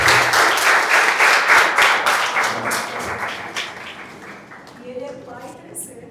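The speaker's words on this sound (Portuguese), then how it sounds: "Vamos dar uma salva de palmas para o Olímpio" Audience applause at a careers fair, dense clapping that starts loud and gradually thins out and fades, with a voice speaking as it dies away.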